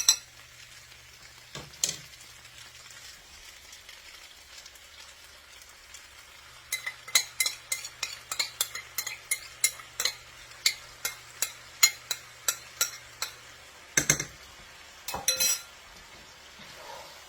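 Thai drunken noodles are stirred and tossed with sauce in a pan, a steady run of clinking, scraping utensil strokes with light sizzling, fairly close, with no talk.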